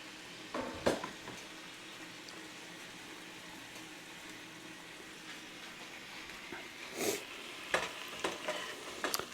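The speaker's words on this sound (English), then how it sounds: "put that camera over there on that shrimp" Pre-cooked shrimp frying with whiskey and teriyaki sauce in a pan, a steady low sizzle with occasional louder stirring clatters near the start and end, no talking.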